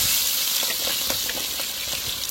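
Onions fry in oil in a large pot for chicken biryani, giving a continuous sizzle with scattered crackles and pops close up.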